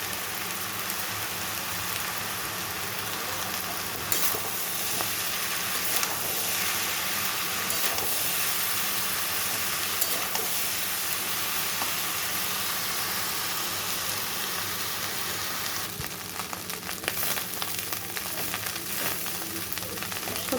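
Fried rice sizzling steadily in a hot pan as it is stirred and mixed, a continuous close hiss and crackle with occasional scraping, no talk over it.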